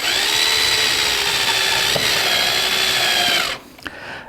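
A power drill runs continuously at close range, driving screws into a pre-drilled mold, its pitch sagging slightly under load before it cuts off abruptly, followed by a small clack.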